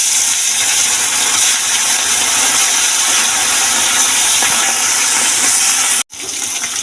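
A loud, steady hiss of fish frying in hot oil fills the clip, then cuts out abruptly near the end before resuming.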